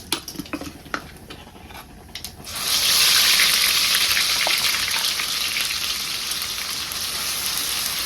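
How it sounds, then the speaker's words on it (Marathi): Ground coconut and tomato paste, for a katachi amti, hits hot oil with mustard seeds and cumin and bursts into a loud, steady sizzle after a few light clinks of utensils. "आता हे सगळं वाटण केलेलं मी तेलामध्ये टाकून घेणार आहे"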